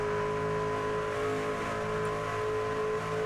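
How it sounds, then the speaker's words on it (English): A race truck engine in an INVETS Trucks Series race at Indianapolis, heard from onboard: a loud, steady, tonal engine drone holding a constant pitch throughout, with no talking. "Let's listen to the engine tune."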